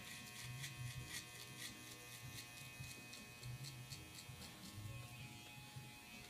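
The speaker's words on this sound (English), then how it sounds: "At this point, I'm going to take my trimmer" An electric hair trimmer buzzes steadily through a haircut near the hairline and behind the ear, its loud, close whine pulsing slightly as it moves, with faint voices underneath.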